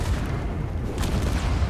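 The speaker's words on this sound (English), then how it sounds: "Surrounded by explosions." Explosions in the Space Engineers game during a WeaponCore tournament battle: a dense, continuous low rumble of booms, loud and close, with overlapping blasts and no break.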